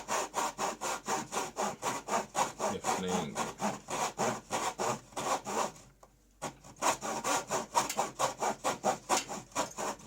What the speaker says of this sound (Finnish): Ihan hyvin tuntuu tämä saha liikkuva, vaikka vähän tiukkaa tekisi.